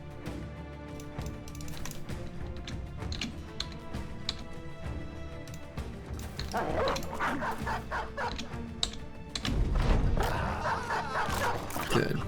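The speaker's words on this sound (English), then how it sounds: "Alright, dogs shall take you down." Dogs bark and yip repeatedly in a medieval battle video game, the barking growing louder and busier in the second half over clattering game noise.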